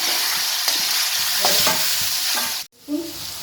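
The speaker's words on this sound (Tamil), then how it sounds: "ஒரு காயை ஆட் பண்ணி எல்லா காயும் போட்டுருங்க. மீடியம் தீயில் வச்சு வதக்குங்க." Beans, carrots and other vegetables sauté in a pan over a medium flame for veg fried rice. A close, bright sizzle carries quick stirring scrapes throughout, with a short drop just before the end.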